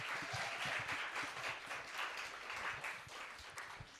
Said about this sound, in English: Another round of applause for Khalifa, please.